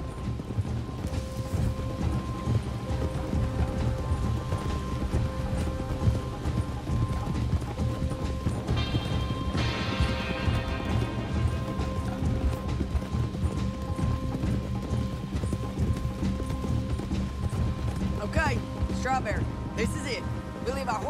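Horses' hooves clip-clop steadily on the ground in the video game Red Dead Redemption 2, a continuous rhythmic trot heard alongside faint mechanical rattles, a brief whinny and talking voices.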